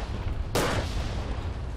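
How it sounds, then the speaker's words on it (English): A single sharp mortar blast in the Verdun World War I video game, sudden and loud against a rumbling background of distant battle noise. "Mortar's incoming."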